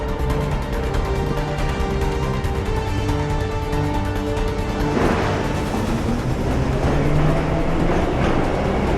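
Metro train in Assassin's Creed 3, a loud steady rumble of rolling carriages with faint clickety-clack, swelling and growing rougher partway through as the train moves, with no talk over it.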